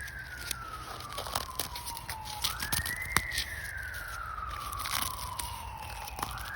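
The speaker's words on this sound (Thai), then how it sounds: "โอ้ยรถตำรวจ" A police siren wails in the distance, its tone sweeping slowly up and down, with crunching and rustling close by while picking wood ear mushrooms outdoors.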